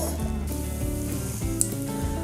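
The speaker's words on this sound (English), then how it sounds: "Okay, our water is boiling." A pot of water for orzo pasta bubbles at a rolling boil on the stove, giving a continuous close sizzling, bubbling texture with a small clink partway through.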